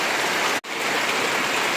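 Heavy rain pours steadily in a village setting, a dense, even hiss that stays loud and close throughout, broken only by one very brief drop-out partway through.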